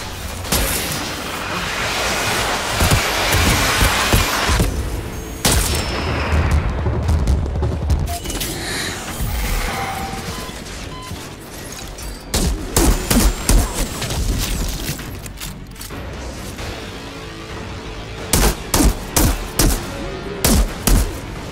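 Enemy gunfire in the video game Outriders: dense, loud volleys of rapid shots and booming impacts roll almost without pause, ending in sharper separate bursts of fire.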